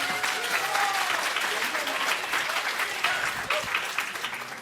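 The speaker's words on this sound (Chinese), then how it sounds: "大家掌声鼓励，好不好？" Sustained applause from a banquet-hall audience at a convention dinner, dense steady clapping filling the room at close range with no pause.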